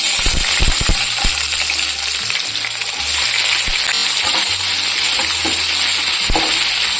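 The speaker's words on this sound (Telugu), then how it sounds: "ఇప్పుడు ఫ్రై అయ్యాక ఆనియన్స్ అయితే వేసేసుకోవాలి" Onions frying in hot oil with mustard seeds and chillies for a catering-style spinach masala curry, a steady loud sizzle with scattered pops and crackles throughout, and a low hum underneath.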